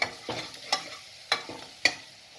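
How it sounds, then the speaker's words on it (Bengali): Chicken mixture being stirred in a pan, with several sharp scraping strokes at an uneven pace over a soft, steady sizzle; no one speaks. "দুটাকে একসঙ্গে ভালো করে নেড়ে দেবো"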